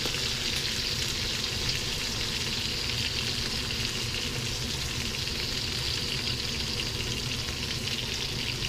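Rib steak searing in a hot pan, a loud, continuous sizzle and fry that holds steady the whole time with no talking.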